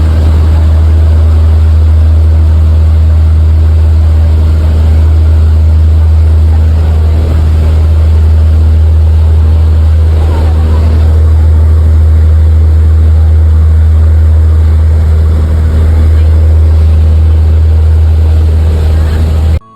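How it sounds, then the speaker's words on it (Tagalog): A lancha passenger boat's engine drones loud and constant with a deep steady rumble as it heads out toward Dinagat Island. "aalis na ang sinasakyan naming lancha"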